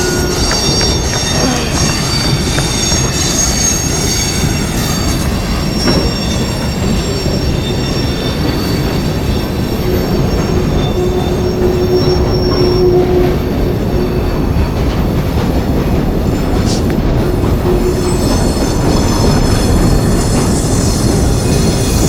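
A CN freight train rolls past close by, a loud, continuous rumble of railcars with wheels squealing against the rails throughout.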